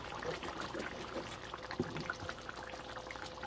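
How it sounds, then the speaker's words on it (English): Soup pours into a crock pot with a soft, continuous splashing trickle, close but quiet, with no voices. "So I'm going to add this to the crock pot."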